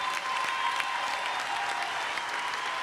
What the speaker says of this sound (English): give Senator Cruz a big round of applause